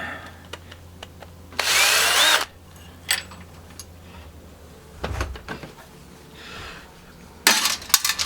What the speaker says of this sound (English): And I use a drill.